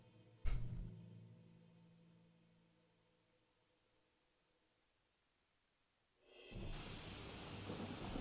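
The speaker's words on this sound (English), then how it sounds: "it appears I've teleported into a storm" Thunderstorm in the video game Skyrim: a sudden loud thunderclap rumbles and fades slowly, followed after a quiet stretch by steady heavy rain hissing.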